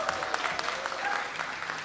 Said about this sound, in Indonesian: Tepuk tangan untuk JB.